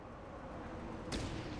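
A single gunshot from a character in the game Fallout Tactics cracks out near the end, sharp and fairly loud over a steady low background hum.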